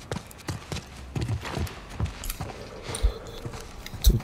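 Horse hooves clip-clop in a steady walking rhythm in the video game The Last of Us Part I, close and moderately loud, with occasional heavier thuds.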